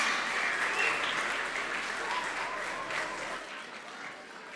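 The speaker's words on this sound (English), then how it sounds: "Let's give them one more big round of applause as they exit the stage." Applause from a school assembly audience as Grade 7 and 8 students leave the stage, a steady wash of many hands clapping that thins toward the end, with no talking.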